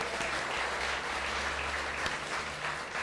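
A church congregation applauds steadily for about three seconds, a dense, continuous wash of clapping that fills the room with no pauses and no speech over it.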